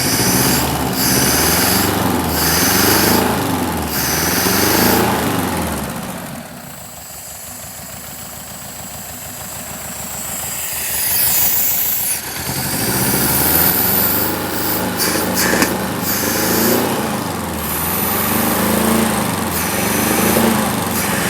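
A VW Type 4 2.0-litre engine from a Porsche 914 runs on a stand outside the car: a steady, buzzy, close idle with rhythmic throbbing that dips and roughens in the middle, then picks back up.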